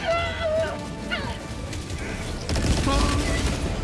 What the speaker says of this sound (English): I'm throwing an airstrike, I'm sorry.